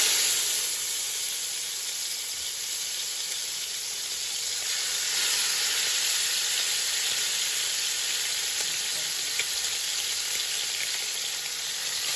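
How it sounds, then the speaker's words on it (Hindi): Marinated tandoori chicken tikka pieces sizzle loudly and continuously as they hit very hot oil in a pan, a dense hiss that swells slightly after a few seconds and stays close and steady. "अब आपने इसको बड़े ध्यान से चिकन को इसके अंदर ऐड करना है क्योंकि ऑयल बहुत गर्म है"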